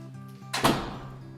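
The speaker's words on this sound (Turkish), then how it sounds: "Kapıyı kapatayım ben." A steel front door at the entrance of a villa swings shut with one solid thunk and a short metallic ring that fades into the hallway, close and fairly loud.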